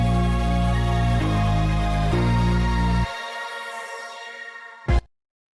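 Dark R&B beat outro: dense, loud sustained chords pulse on for about three seconds, then cut to a thinner reverb-washed tail, with a brief swell before falling silent.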